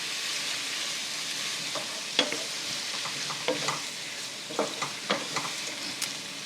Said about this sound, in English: let's add our fresh garlic to the pan. And stir it around.